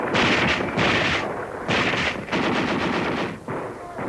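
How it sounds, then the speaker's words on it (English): Intense machine gun fire in battle, long rapid bursts of gunfire separated by brief gaps, loud and close, with heavy low rumble beneath. "The Japanese relentlessly directed intense gunfire into the ranks of the helpless men."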